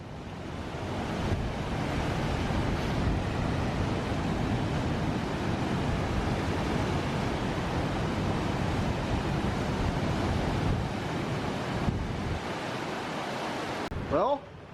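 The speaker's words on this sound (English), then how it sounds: "Look at all that oxygenated water, that wake, sideways wake." Churning wake water rushing steadily alongside a Royal Caribbean cruise ship leaving CocoCay in the Bahamas, a loud continuous roar of surf-like spray with wind buffeting, holding evenly for most of the stretch before cutting off near the end.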